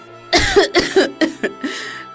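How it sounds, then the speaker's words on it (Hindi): Several harsh coughs in quick succession, close and fairly loud, fading into a final weaker cough. "बीमारी की वजह से खांसने लगती है"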